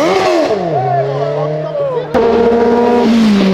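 A car with a PDK dual-clutch gearbox revs and rises through tones, then drops gear with a sharp crack and a higher steady engine note, loud and close, with voices talking over it.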